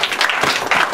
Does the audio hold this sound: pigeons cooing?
no